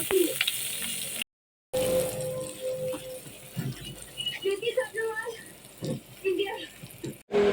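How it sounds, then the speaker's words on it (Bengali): Steady sizzling of cumin, dried chilies, onion and garlic frying in hot oil, with a brief gap, then stirring clinks and a voice talking over the crackle. "এখন আমি এগুলি দিয়ে ভেজে নেব"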